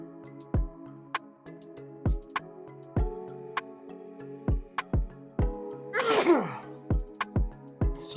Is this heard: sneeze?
yes